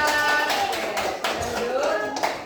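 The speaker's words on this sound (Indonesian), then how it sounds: "tepuk tangan untuk kelompok matematika" A classroom of students applauds the math group, a brief burst of scattered hand claps mixed with chatter and voices throughout.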